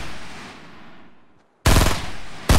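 Automatic gunfire erupts in a Fortnite match, a loud sustained burst of rapid shots after a fading spell of quieter game noise, then a second burst starting at the end.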